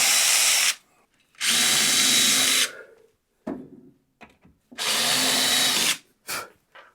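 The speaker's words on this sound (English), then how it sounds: "So all I need to do now is just pop a few more holes in the underside of the bench." A power drill bores holes into the underside of an MFT-style workbench in three loud, sustained whining bursts separated by short pauses and faint handling noises.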